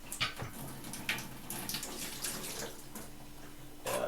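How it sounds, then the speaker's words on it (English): Fruits being rinsed under a running kitchen tap, a steady broadband rush of water with brief splashy surges as the fruit is moved through the stream, close and fairly loud, no talking. "I wash off my fruits"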